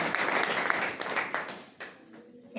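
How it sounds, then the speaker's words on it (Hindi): An audience at a company business-plan meeting claps for everyone working, applause filling the first seconds before fading, with a brief burst again at the end. "बाकी लोग सभी लोग जो काम कर रहे हैं एक बार सबके लिए तालियां हो जाए,"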